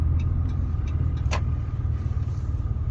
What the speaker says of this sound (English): I'm trying to park the car, or park the truck